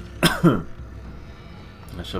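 Two quick coughs close together, then quiet background with a faint sound near the end, during Jak and Daxter: The Precursor Legacy gameplay on PS3.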